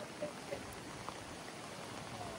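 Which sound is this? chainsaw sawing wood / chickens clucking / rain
rain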